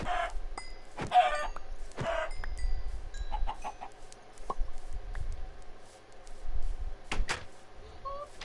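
Minecraft chickens cluck in a handful of scattered bursts, close and moderately loud, with quieter clicks and game ambience filling the gaps between calls.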